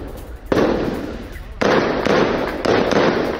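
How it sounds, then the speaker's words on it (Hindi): Loud bursts of gunfire during a clash between IDF soldiers and Palestinians in Ramallah, West Bank, with three abrupt onsets that each swell into sustained crackling, heard over a background of voices. "वहां पर गोलीबारी होने लग गई, ये देखिए जरा।"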